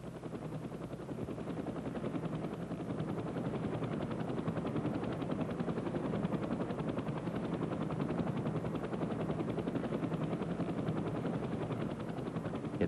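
UH-1 helicopter rotor spinning at high speed, 6,600 RPM, a continuous dense whirring roar with fast rhythmic beating, steady and moderately distant throughout.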